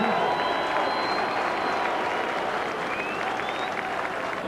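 A crowd at a Salford rugby league season event applauds the club chairman, a steady wash of clapping and cheering with faint whistles rising above it throughout.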